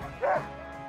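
A sled dog gives one short, sharp bark or yip at middle distance, standing out briefly over a quiet outdoor background.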